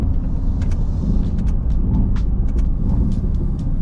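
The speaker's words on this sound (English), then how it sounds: "Just low RPM downshifts, they sound so good." Deep rumbling V8 engine of a Mercedes-AMG GT S idling low with a throaty burble during low-RPM downshifts, near and loud, a few faint higher clicks over the steady low growl.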